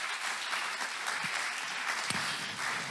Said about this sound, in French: j'aimerais vous applaudir ce matin pour tout ce que vous faites